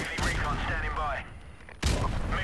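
Rapid AK-47 gunfire from Call of Duty Modern Warfare Remastered, a dense run of shots through the first second or so and a burst resuming near the end, with someone talking over the game sounds.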